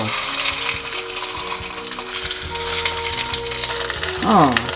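Oil sizzles and crackles steadily as a dried threadfin fish pan-fries, with a brief scrape or stir near the end; no one speaks.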